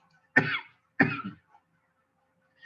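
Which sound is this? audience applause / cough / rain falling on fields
cough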